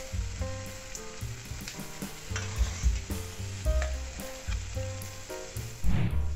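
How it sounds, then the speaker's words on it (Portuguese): Bolinho de chuva dough fritters sizzle and bubble in hot oil, with intermittent stirring and clinking of a utensil nearby. "Continuar fritando aqui."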